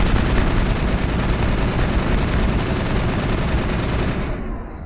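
Gunfire from the video game Mass Effect is a dense, loud, continuous barrage of rapid automatic shots that fills the whole stretch and cuts off abruptly near the end.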